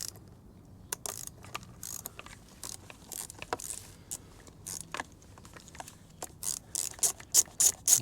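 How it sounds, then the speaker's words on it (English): Ratchet with an 8mm socket and extension undoing crash bar bolts on a Ducati Multistrada V4S motorcycle, giving quiet, rapid pawl clicks in short bursts that grow louder and denser toward the end. "an 8mm socket with an extension on."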